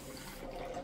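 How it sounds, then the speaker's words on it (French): A toilet flush with adjustable duration runs in a steady gushing rush of water, close and moderately loud, heard alone for under a second. "tu peux doser la durée de la chasse d'eau"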